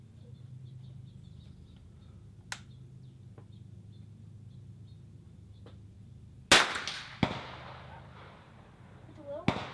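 Gunfire at an outdoor shooting range during an NRL22 rifle match: one loud sharp shot crack with a short echo tail, a second crack soon after and a later report, over low background murmur of people talking.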